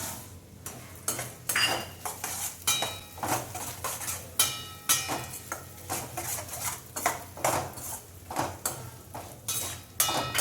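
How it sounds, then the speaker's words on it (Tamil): Cashews and almonds roasting in ghee in a pan, stirred with a metal spoon in repeated scraping, clinking strokes, close and fairly quiet, with a faint sizzle underneath. "நெய் ஊற்றிட்டேன் இந்த முந்திரி பருப்பு பாதாம் பருப்பு எல்லாம் நல்லா வறுத்துக்கலாம்"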